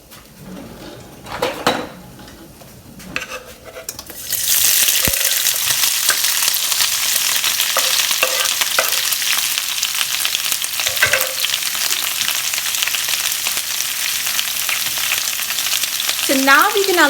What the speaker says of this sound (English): So now we're gonna let this cook on the medium to high flame for a few minutes.